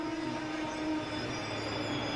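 A high-speed train runs steadily along rails, giving a continuous rolling roar with a sustained tonal whine and faint squealing, moderately loud throughout with no voices.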